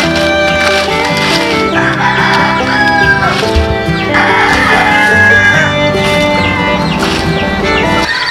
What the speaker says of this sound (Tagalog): Kasi sa sobrang dami ng manok.